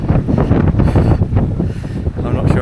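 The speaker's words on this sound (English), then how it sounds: "it is quite blowy. I think it's about 20-mile-an-hour winds." Roughly 20 mph wind buffeting a microphone outdoors during a Rat Race endurance event, loud low rumbling gusts that pulse unevenly and stay close and constant across the whole moment.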